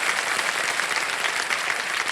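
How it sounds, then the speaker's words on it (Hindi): Continuous studio audience applause on the set of the quiz show Kaun Banega Crorepati, a full, steady roar of clapping hands with no voices over it. "आपका स्वागत करते हैं हम तालियों के साथ"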